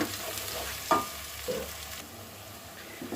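Quiet frying sizzle of garlic-ginger paste in a pan, with a few soft stirring scrapes and taps over the faint steady hiss.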